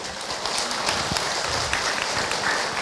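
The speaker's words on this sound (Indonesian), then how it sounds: "tepuk tangan buat Ahilman Ibu" An audience at an Islamic religious lecture claps in a dense, steady wash of applause that holds at an even level throughout.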